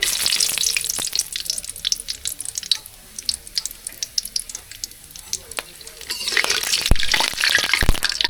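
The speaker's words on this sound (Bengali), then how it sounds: "তেল গরম হয়ে গেছে, এবার দিয়ে দেবো শুকনো গরম মশলা আস্তে আস্তে।" Dry whole spices dropped into hot oil in a wok crackle and sizzle steadily, with sharp spatters and clinks of stirring growing louder toward the end; no talk.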